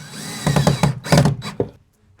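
Number 5 screws driven into a wooden desk, with a power driver whirring in several short bursts at close range before it stops.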